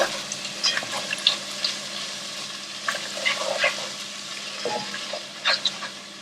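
Chili powder and salt being stirred into soyabean and spinach pulao in a pot, soft scraping and clinking stirs over a low background sizzle, no talk.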